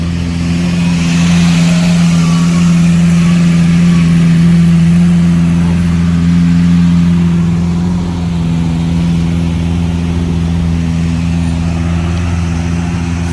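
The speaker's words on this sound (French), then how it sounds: "Aventador LP704 Roadster qui s'en va." Lamborghini Aventador LP704 Roadster pulling away on a Monaco street, a loud, steady engine drone with a low rumble that holds close before easing slightly, set against city background noise.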